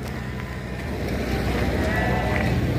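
Sheep bleat amid a steady crowd murmur at a busy livestock market where cattle and sheep are traded, the animal calls mixed into constant background noise with faint voices.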